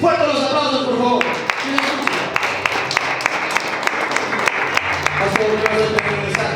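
Applause greets a pastor stepping up at a wedding ceremony, clapping sharp and steady for several seconds over a hum of voices, with music or talk fading in near the end.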